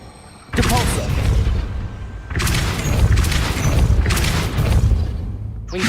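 Depulso force-push spell cast in the Hogwarts Legacy video game, heard as loud booming blasts with crashing impacts in three bursts.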